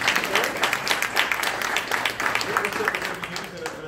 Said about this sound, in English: Let's give her a big round of applause for that.